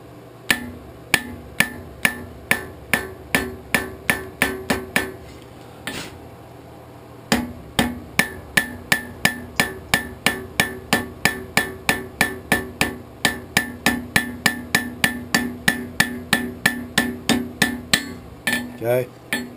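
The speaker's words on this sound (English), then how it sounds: "you can use a hammer to do it as well" Rapid, steady hammer blows on hot steel at a forge, cutting veins into a leaf for a coat hook: dozens of ringing metallic strikes with a brief pause partway, close and loud with no talk.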